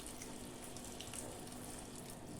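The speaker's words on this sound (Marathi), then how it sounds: "ह्याच्यामध्ये आपण घालूया गरम पाणी." Hot water pours into a pot of cooked soya khichdi on a lit gas stove. A soft, continuous splashing pour runs quietly and evenly with no voices.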